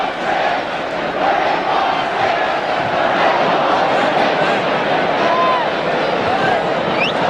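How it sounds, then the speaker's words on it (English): Football crowd at a 1974 West Ham United versus Wolves Division 1 match, shouting and chanting together for several seconds, loud and dense, with a broadcast commentator's voice faintly underneath. "Crowd shouting, "We want 6.""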